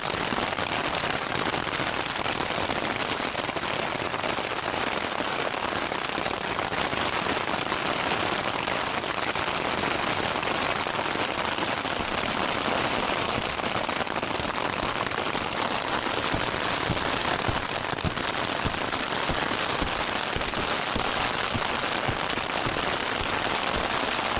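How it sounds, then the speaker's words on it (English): Steady rain from a passing storm on the Uinta Highline Trail patters on a hard surface, a continuous dense crackle of drops that never lets up. "We got some rain now too."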